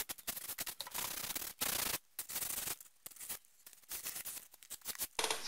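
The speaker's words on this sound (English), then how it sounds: "Sanding the painted surface." Sanding a painted wooden surface coated with water-based paint, heard as irregular close scratchy rubbing strokes broken by short pauses.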